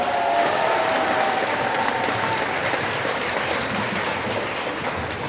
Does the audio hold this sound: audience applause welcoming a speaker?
yes